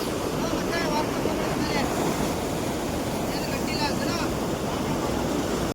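Water pours over the spillway of the overflowing Vani Vilasa Sagara dam, making a steady, dense rushing roar close by that fills the whole scene with constant noise.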